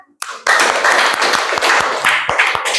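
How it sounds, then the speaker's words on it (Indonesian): Children in a classroom applauding, a loud, close burst of many small hands clapping fast and unevenly that starts abruptly and keeps going steadily to the end. "Tepuk tangan anak."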